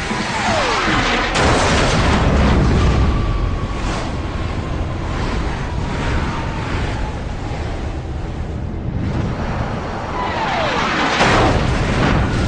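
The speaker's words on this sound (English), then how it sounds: "Debris from the explosion takes down the MiG's wingman." A missile explosion hitting a MiG-17 jet: a deep, rumbling roar with a heavy boom swells and churns continuously, like a distant explosion mixed with rushing wind and jet noise.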